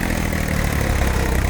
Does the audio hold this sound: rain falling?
no